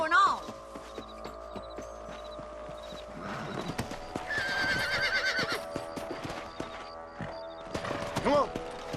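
Horses in the Western game Red Dead Redemption clip-clop steadily on hooves while one whinnies loudly at the start and again near the end; voices and background music sit under the rhythmic hoofbeats.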